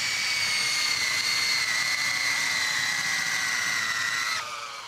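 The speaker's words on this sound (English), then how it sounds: "And Daryl, you have to pre-drill, so I'm gonna give you a slight head start" A power drill pre-drilling holes for lag screws and LedgerLok structural screws runs at a steady high whine for about four seconds, close and loud, then cuts off suddenly near the end.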